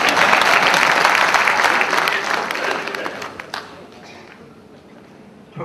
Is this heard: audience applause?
yes